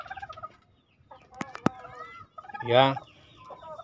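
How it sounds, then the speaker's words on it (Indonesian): Several hens, one of them brooding, cluck in a poultry house on a chicken and livestock farm, with scattered short calls and a louder, longer squawk near the end, under faint talk. "Babon ketiga mengeram,"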